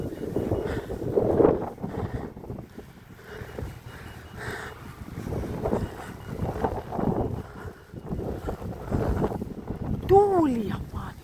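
Gusty wind buffets the microphone outdoors in irregular, rumbling surges, with people talking faintly underneath.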